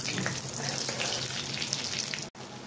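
Cumin seeds and asafoetida sizzle steadily in hot oil for a Rajasthani kachri and cauliflower dish, a close, continuous bright crackle with a brief break near the end.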